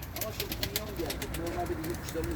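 Soft coos from a male pigeon murmur close by beneath steady background noise and some nearby voices.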